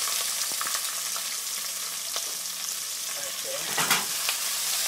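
Shrimp fry in a hot wok with a constant loud sizzle and crackle, broken by occasional scrapes and stirring clinks, close by.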